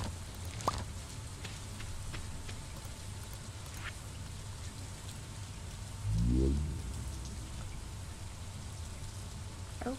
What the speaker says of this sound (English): Alright, so it's raining